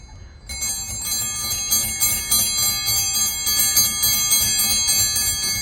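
Bells ring continuously as a loud, bright, rapid shimmering chime near a Jeep Wrangler JK project, with a dense metallic ringing texture and low background rumble throughout.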